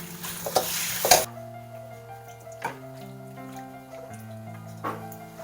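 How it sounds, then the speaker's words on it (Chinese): Beef stir-fried over high heat in a wok: a sharp burst of sizzling and clattering up front, then quieter spatula scrapes and stirs among steady low hissing. "大火给它炒至断生"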